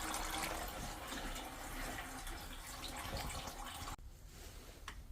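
Fluid drains from the engine of a 2005 Kia Picanto during an automatic gearbox removal, a steady faint trickling and splashing of liquid that runs continuously, then drops off sharply near the end.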